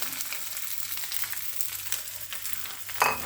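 Pork lard sizzles steadily as fried rice is stir-fried in it, with a close, continuous hiss and a sharper scrape near the end.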